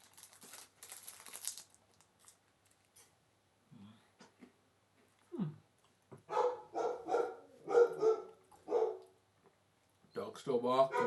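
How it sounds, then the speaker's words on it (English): A dog barks in a series of sharp, fairly loud barks in a quick, uneven rhythm, with a few scattered sounds before them and a final burst at the end, in a quiet room. "Dog still barking."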